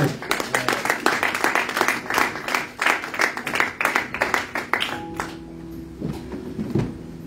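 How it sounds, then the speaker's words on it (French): A church congregation claps loudly in rapid, continuous applause during a worship service, with some cheering mixed in. The clapping fades after about five seconds, leaving a few scattered claps and faint voices. "Acclamons le Seigneur très très fort."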